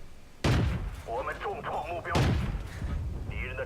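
Two heavy booming tank cannon shots in a World of Tanks style battle, loud and close, spaced about two seconds apart with rumbling tails, with someone talking between the blasts.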